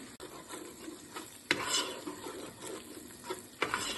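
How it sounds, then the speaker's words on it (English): Vegetables and red chillies fry in a pan for a spicy pasta, giving a soft continuous sizzle broken by occasional stirring scrapes and clinks of a utensil against the pan, quiet and close. "So now I'm going to add my veg in"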